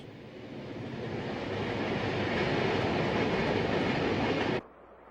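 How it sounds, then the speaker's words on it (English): Model railroad trains run steadily on tracks through a miniature town layout with streets and tall spidery trestles, a continuous dense rumble that swells slightly and then cuts off abruptly near the end. "Some trains run right along Main Street, while others soar overhead on spidery trestles."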